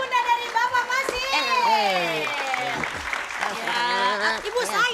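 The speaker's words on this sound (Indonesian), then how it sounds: "kita kasih tepuk tangan sekali lagi untuk ibunda dari Bapak Masih" Applause from a studio audience for a guest's mother on an Indonesian comedy show, clapping running under loud, sing-song voices that dominate throughout.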